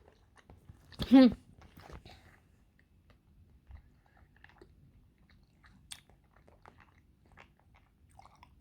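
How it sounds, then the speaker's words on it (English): Someone chews bubble tea up close, producing soft, wet, sticky chewing and squishing sounds with one louder smack near the start, followed by quieter intermittent mouth noises in otherwise near silence. "As I'm chewing my bubble tea"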